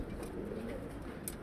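Giribaz pigeons cooing softly and steadily, with a brief brighter call near the end, over a continuous low room hum.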